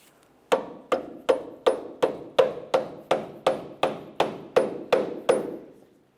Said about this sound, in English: And now we're going to use a rubber mallet. When I use this, I want to carefully tap on this